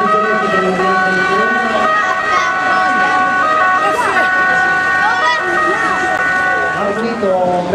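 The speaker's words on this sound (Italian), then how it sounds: "mentre parte l'ambulanza di piano" An Italian Red Cross ambulance siren wails loudly and steadily nearby as the vehicle pulls away during a civil protection demonstration, its tone shifting in pitch while people talk over it.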